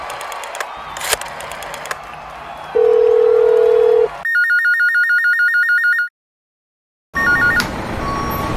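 A telephone rings with electronic tones, then switches to a repeating warbling ring pattern, a short silence and another burst of ringing, loud and close with no speech.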